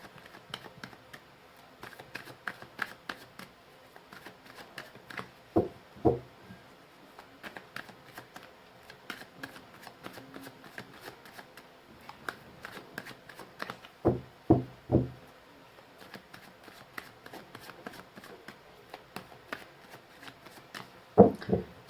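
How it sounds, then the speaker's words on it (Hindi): Tarot cards being shuffled by hand: soft, rapid riffling and flicking in repeated bursts, quiet and close, with no talking. "चलिए मैंने कर लिए कार्ड्स के सफलिंग"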